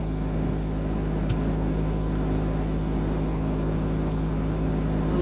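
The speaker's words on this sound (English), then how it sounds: "I don't know how well you're gonna be able to hear me because of the air conditioning in the car," Car air conditioning blowing inside a parked car, a steady low droning hum with a constant fan rush, close and unchanging throughout with a couple of faint clicks.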